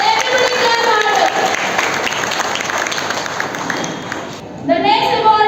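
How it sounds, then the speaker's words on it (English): Parents at a school awards ceremony applaud students with loud, steady clapping that stays close and full, while voices speak over it and the clapping briefly dips near the end. "clap harder for our students"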